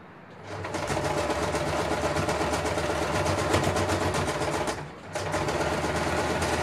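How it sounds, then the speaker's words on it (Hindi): A sewing machine double-stitches a salwar, its steady rapid needle chatter running loud and close, pausing briefly near the end before resuming. "डबल स्टिचिंग करना है।"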